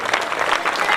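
Quick, dense clapping from a crowd at a local cricket final's trophy ceremony, fairly loud and steady for a short burst.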